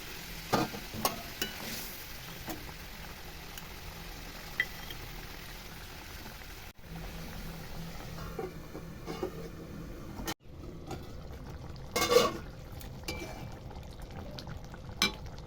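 Bengali fish curry gravy for bhola fish jhal bubbling in a pan, a steady low simmering and sizzling texture with occasional stirring clinks, continuous and close, with no talk.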